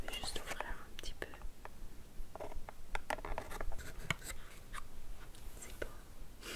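Cardboard packaging of a box of bamboo cotton swabs being opened at close range, soft crinkling, tapping and scratching rustles in an irregular run with faint whispering throughout.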